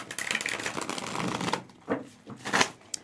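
A tarot card deck being shuffled by hand, a dense run of papery riffling and slapping at close range, then a few separate snapping shuffles after a short pause.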